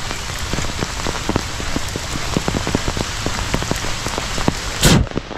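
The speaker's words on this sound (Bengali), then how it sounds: "গ্রামে বৃষ্টির মধ্যে হাঁটতেছি" Rain falls in a village while someone walks through it, with a steady hiss and close, irregular drops tapping on a nearby surface, a louder splash near the end, and no voices.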